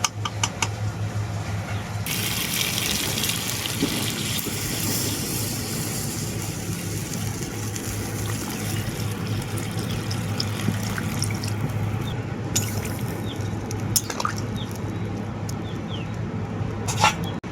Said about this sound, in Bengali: এখন আমি এর মধ্যে দিয়ে দেবো ঝোলের জন্য পরিমাণ মতো জল